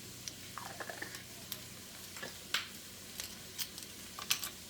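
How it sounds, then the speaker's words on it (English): A spoon stirs chicken noodle soup in a pot, giving quiet scrapes and soft clinks against the metal. The irregular strokes ring out over a faint simmering hiss in a quiet kitchen. "let's give this a good stir"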